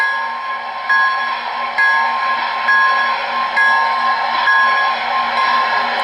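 MTH DCS model train engine bell ringing in a steady, regular clang repeating roughly once a second over a constant electronic hum, moderately loud and close.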